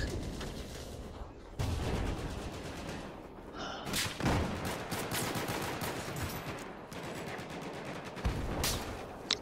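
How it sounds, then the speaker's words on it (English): Gunfire in Battlefield 4, a sniper rifle among it, with sharp loud cracks and sustained rattling bursts across a busy battlefield, shots landing at uneven intervals and a few distinct sharp reports near the end. "Someone's sniping me."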